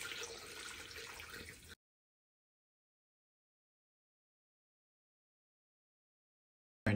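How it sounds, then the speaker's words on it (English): Coolant pours through a funnel into a newly installed aluminum radiator on a naturally aspirated Mazda Miata, giving a close, steady liquid rush for under two seconds before cutting to silence. "And then I just pour coolant in here so I can do it nice and slow, just like this"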